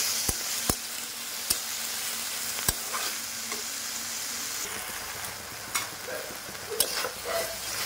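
Spinach curry sizzles steadily in a pan while turmeric and salt are stirred in, the broadband fry broken by sharp clacks of a spoon against the pan and scraping strokes, with no talking.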